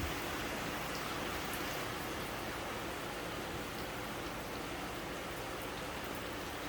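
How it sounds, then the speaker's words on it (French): Heavy rain falls in a steady, dense wash of noise with no break, a loud, close downpour heard alone during a holiday trip around the Saint Lucia carnival. "On ne peut plus rien distinguer, tellement il pleut."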